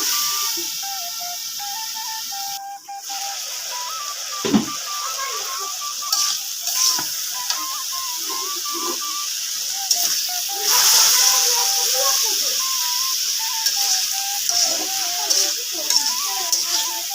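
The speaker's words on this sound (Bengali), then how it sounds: "আমি আর ঢেকে দেব না এখন এভাবে ভাজবো ভাজা হওয়ার জন্য অপেক্ষা করি" Bitter gourd frying uncovered in a pan, a continuous hissing sizzle with occasional stirring scrapes and clinks over several seconds, a faint background tone running throughout.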